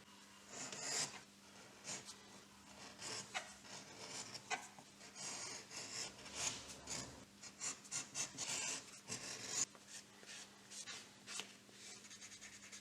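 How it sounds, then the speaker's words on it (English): A tool bevels and slicks the top edge of a leather bifold card wallet, making quiet, close rubbing and scraping strokes in irregular bursts. "I also want to bevel this top edge here inside and out and slick it, make it nice and smooth"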